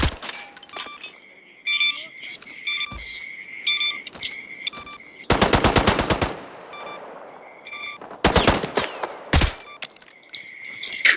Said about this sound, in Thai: คือมันยิงไม่โดนผมเลยนะ